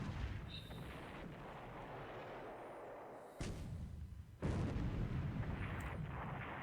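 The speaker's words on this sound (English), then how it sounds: "We're gonna open up with the big guns, aren't we?" Eight-inch naval guns fire in a World War II strategy game set around Luzon, with a sustained rumbling barrage and two sharp, heavy blasts standing out midway, all without talk.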